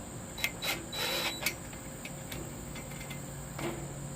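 Bolts being tightened on rusty metal patio furniture give a few faint, short mechanical clicks and rattles in scattered bursts over a quiet background hum, with no talking.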